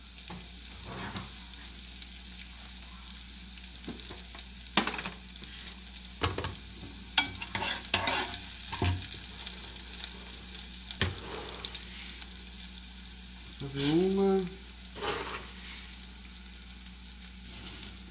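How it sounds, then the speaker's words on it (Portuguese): Food sizzles and fries steadily in a pan on a home kitchen stove, with occasional stirring scrapes and clatters over a constant hiss, close by and moderately loud. "ciúme ver fazendo essa fritura aqui"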